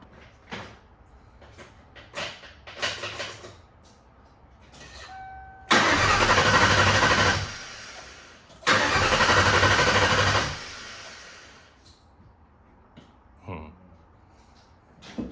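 A 1996 Ford SVT Cobra V8 cranking and starting: after some clicks and brief cranking, the engine catches twice with loud, sustained revving bursts, then falls quiet with faint clatter nearby.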